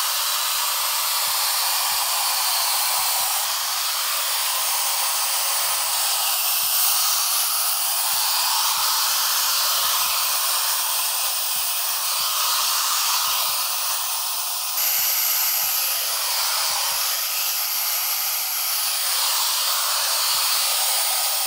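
A hair dryer fitted with a diffuser drying curly hair blows a steady, loud, airy hiss for the whole stretch, with faint handling clicks and knocks underneath.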